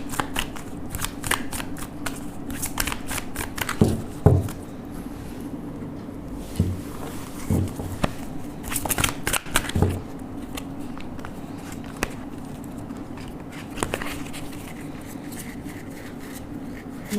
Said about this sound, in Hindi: ओके, तो ये हो गया, इन्हें भी शफ़ल कर लेते हैं।